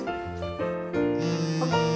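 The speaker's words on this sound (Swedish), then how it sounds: "Så Amanda, kan du ringa min mobil" Mobile phone ringing with a melodic ringtone, a clear tonal tune that shifts notes in steps and holds fairly loud and steady throughout, no talk over it.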